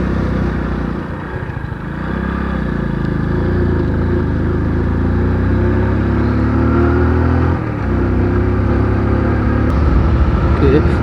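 A 100cc motorcycle labours up a slope in second gear on a Kodaikanal hill road, its engine droning steadily and close with a brief dip in pitch, while someone talks over the ride.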